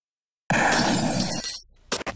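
In a gun arcade game, a glass bottle is shot and shatters in a loud, close crash with a spray of breaking glass, followed by a short pause and a couple of small clinks of falling shards.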